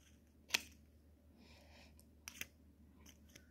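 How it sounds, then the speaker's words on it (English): Scissors snip through paper while a paper spiral staircase is being made, a few sharp close cuts, one crisp snip followed by a pair of softer ones, in a quiet room with no talking. "you're going to need some scissors, and you're going to cut that part off."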